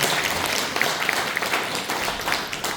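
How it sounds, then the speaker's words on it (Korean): An audience at a Democratic Party members' rally in Cheongju claps together, a dense, steady roar of applause filling the hall, loud and sustained throughout. "다시 한번 힘찬 박수 부탁드리겠습니다"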